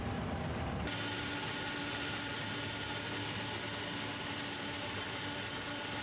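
Inibuilds A300 left jet engine spooling up in Microsoft Flight Simulator, a steady loud whine and rumble that jumps in level after the first second and then holds continuous and close.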